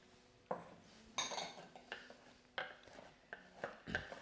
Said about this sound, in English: And again, chopping again.